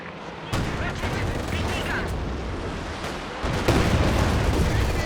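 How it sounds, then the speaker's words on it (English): A T-34 tank fires in the Company of Heroes 2 strategy game, with heavy booms marking the start and again partway through a dense, continuous din of battle gunfire and explosions. "T-34's down the bottom now. She's ready to fire."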